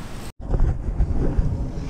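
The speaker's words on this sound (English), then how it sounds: "It's a pretty windy day here today" Gusty wind buffets the microphone in a steady low rumble while bass fishing on a windy spring day, broken by a brief moment of silence near the start.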